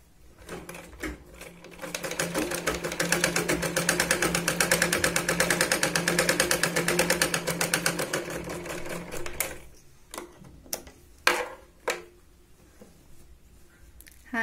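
Sewing machine stitching tucks on a Katori blouse, a fast, even mechanical whir of rapid needle strokes for several seconds, then stopping, followed by a few separate clicks and handling knocks.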